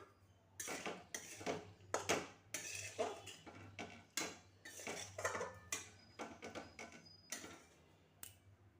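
Radish and carrot pickle clatters into a glass jar with repeated metallic clinks and scrapes of a spoon against the rim and pan, irregular bursts close by with no talking.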